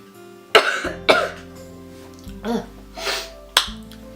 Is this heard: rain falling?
no